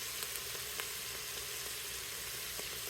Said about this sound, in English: Mushrooms going right on in with the onions.